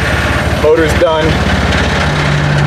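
A 1963 Chevrolet Impala junkyard car's engine runs in a steady, loud low rumble throughout, with brief voices briefly rising over it.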